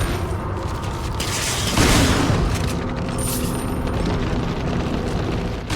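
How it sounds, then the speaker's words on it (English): A flash grenade going off in Resident Evil 4 (2005), a single loud boom swelling out of a dense, continuous game soundscape, fading into a steady rumble. "I'm gonna use a flash grenade here just because I don't really need it in the next room"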